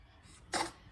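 A single short, sharp sneeze from a baby, close and brief, standing out over a quiet room background.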